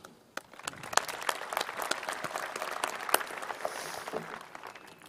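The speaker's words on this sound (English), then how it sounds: "a big round of applause for our faculty and staff" Audience applause at a high school graduation ceremony, a steady wash of many hands clapping that holds for several seconds with a few sharper claps standing out, fairly distant in a large space.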